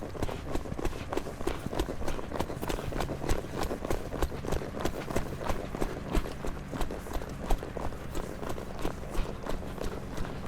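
A young horse working a cow sends out a fast, steady run of hoof beats on dirt, dense rhythmic thuds carrying across the whole stretch at moderate loudness, with no talk over them.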